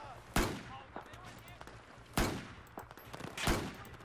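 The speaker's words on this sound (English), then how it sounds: "I just like unloaded a full clip of ammo with the guy." Pistol gunfire in the Battlefield 4 video game: three loud, sharp shots spaced over about four seconds, with fainter game noise and smaller pops between them.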